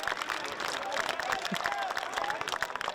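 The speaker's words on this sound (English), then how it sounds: "And the try is awarded, much to the jubilation of the crowd" Crowd cheering at the 2018 Australian Schools Rugby Championship final between NSW I and NSW II after a try is awarded, a broad, sustained roar of cheers and clapping under an excited commentator's voice.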